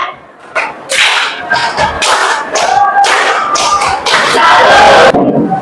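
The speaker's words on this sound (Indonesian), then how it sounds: "Boleh tepuk salut." A classroom group performs a rhythmic 'tepuk salut' clapping chant, sharp unison claps and shouted syllables in a loud, steady pattern with a strong finish.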